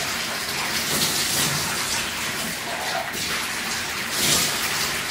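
Water running steadily from a tap while hair is wetted during a root touch-up, a continuous splashing hiss with slight swells, fairly close and without talk.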